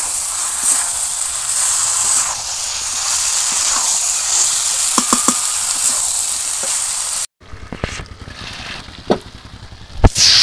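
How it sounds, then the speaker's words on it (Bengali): Chicken curry with Malabar spinach sautés in a pan during the kosha stage, a steady close sizzle and hiss with a few sharp stirring clinks, briefly cutting out before resuming with louder scraping knocks. "এবার একটু কষাবো।"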